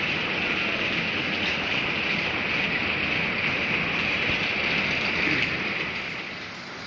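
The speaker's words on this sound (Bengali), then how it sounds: "খুব জোরে বৃষ্টি পড়ছে" Heavy rain pouring steadily in Darjeeling at a hotel's front area, a dense unbroken hiss that eases slightly in the last moments.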